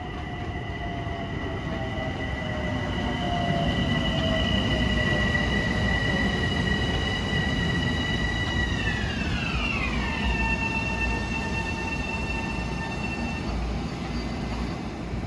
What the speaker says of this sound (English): here comes 26:01 from Westbury to Atlantic Terminal